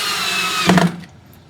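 A power drill drives screws into a wooden pallet bench, a loud steady whir that peaks briefly near the end before cutting off abruptly, leaving quiet.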